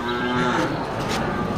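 Simmental cattle at a livestock sale low with one loud, drawn-out moo that dominates the moment, with no talk over it.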